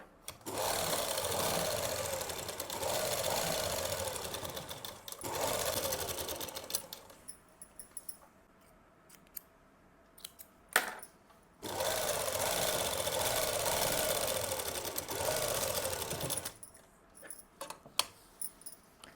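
A sewing machine stitches a palazzo seam in two long, steady whirring runs. Between the runs are a quiet pause and a few sharp clicks and taps of handling.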